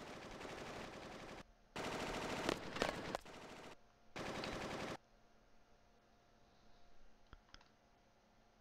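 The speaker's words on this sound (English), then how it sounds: "Gunfire. Sounds pretty bad." Gunfire in the video game Final Fantasy 8, rapid automatic bursts in a few loud stretches, then a quieter hum with faint clicks.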